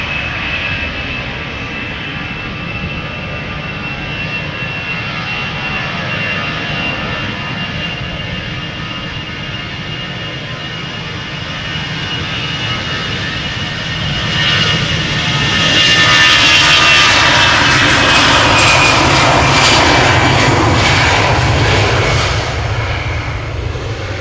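An EasyJet jet airliner bound for Bristol takes off at Amsterdam Schiphol, its engine roar rising from a steady distant whine to a loud, close thunder before easing slightly as it climbs, with no talk.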